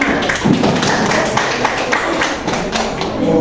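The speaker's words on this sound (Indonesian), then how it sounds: "Tepuk tangan untuk kelompok 5." A classroom group claps for the fifth student group after its presentation, a steady close patter of many hands sounding alone for a few seconds.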